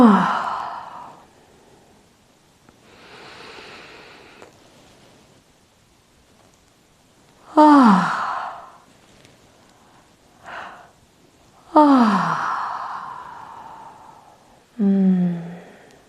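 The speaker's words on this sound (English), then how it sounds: "open up the mouth real wide and just invite in a few big, juicy, long," Several long, deep yawns during a guided yoga practice, each a breathy, drawn-out exhale with a voiced sliding tone. They are spaced several seconds apart, with quieter breaths between them.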